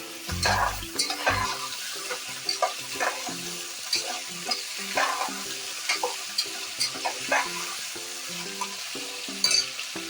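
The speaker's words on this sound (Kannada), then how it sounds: "1 ಆಲೂಗಡ್ಡೆ, 1 ಕ್ಯಾಪ್ಸಿಕಮು ಎಲ್ಲ ಹಾಕಿ ಚೆನ್ನಾಗಿ ಫ್ರೈ ಮಾಡ್ಕೊಳ್ಳಿ ಚೆನ್ನಾಗಿ" Potato and capsicum fry in a pan with a continuous sizzle, punctuated by repeated scraping and clinking strokes from stirring, plus a couple of heavier knocks near the start.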